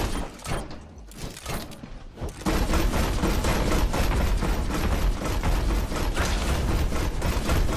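Sustained automatic gunfire from a Torbjorn turret in the video game Overwatch, a dense unbroken rattle after a couple of seconds of sparser bursts and impacts, loud and continuous with no talking over it.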